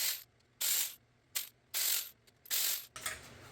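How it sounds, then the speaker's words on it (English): A ratchet wrench removes 10mm bolts from a RAV4 transmission pan, giving four bursts of rapid clicking separated by short pauses, close and clear with no talking. "now we just have a bunch of 10mm bolts we need to take off this pan"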